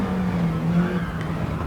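Race car engine in Gran Turismo 7 dropping a gear to third while climbing uphill on a lap, a steady loud drone with a brief shift in pitch, no talking.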